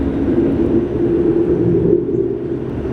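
A Boeing 757 landing at LAX gives off a low, droning jet rumble with a steady hum, fairly loud and fading slightly toward the end, without voices.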